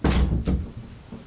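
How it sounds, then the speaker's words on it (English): A door swings and latches shut with a sharp knock, followed by a softer second thud and faint rattle, close and alone. "Then you hear a sharp click as the door latches behind you."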